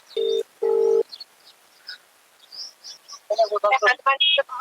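Two long electronic tones sound, followed after a pause by a rapid series of short, varied phone beeps like a number being dialed.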